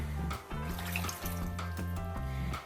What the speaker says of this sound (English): So now it's time to add some water.